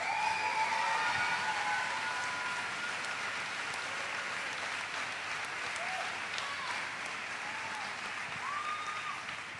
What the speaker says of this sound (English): So give a big round of applause.